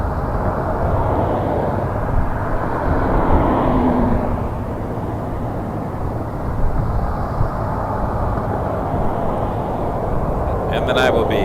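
An Air Canada Express regional airliner, operated by Jazz Aviation, roars steadily on its takeoff run from runway 24 at Toronto Pearson, a broad continuous engine rumble heard from a distance outdoors.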